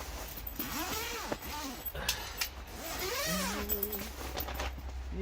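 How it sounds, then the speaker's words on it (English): A zipper on an Outsunny ice fishing hut being pulled open in a few quick rasping strokes, close and fairly quiet, with a low hum behind. "Got some nice zippers."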